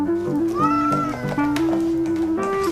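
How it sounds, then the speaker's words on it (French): A house cat meows repeatedly in long, drawn-out, insistent calls, loud and close with no other sounds around it. "mon chat, il y a un truc qu'il apprécie vraiment faire. C'est miauler près de 4 millions de fois par jour"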